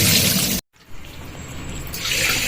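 Grains being rinsed in a pot of water in a home kitchen: loud, close splashing and running water, broken by a short silent gap, then steady sloshing that swells again toward the end.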